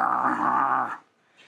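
A man imitates a dog's growl with his voice, a loud, close, sustained rumbling snarl lasting about a second before it cuts off into near silence.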